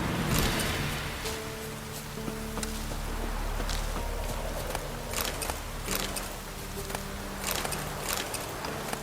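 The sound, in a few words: rain in the video game The Witcher 3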